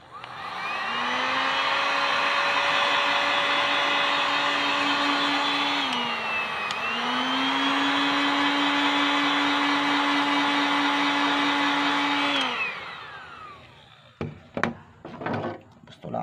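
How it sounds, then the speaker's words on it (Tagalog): A heat gun blows hot air onto cracked plastic with a steady, loud electric whine and rushing airflow. The pitch dips briefly midway, then the tool shuts off and winds down, followed by light handling clatter. "Unti-unti lang po natin painitan ng heat gun para hindi po mabigla."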